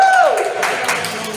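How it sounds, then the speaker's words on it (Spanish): An audience breaks into applause and cheering for a guest at a Joker cosplay group event, a broad wash of clapping that swells after a brief tone and carries on steadily. "Un fuerte aplauso, por favor."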